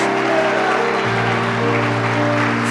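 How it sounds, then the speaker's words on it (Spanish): A church congregation claps continuously through a loud service, with sustained organ or keyboard chords and music filling the room beneath the applause. "Fuerte aplauso al Espíritu de Dios."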